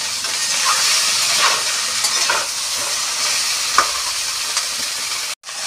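Cauliflower fries in a pan for a Bengali-style dry cauliflower kosa, giving a loud, continuous sizzle and hiss with occasional stirring scrapes and a brief drop near the end, with no talking.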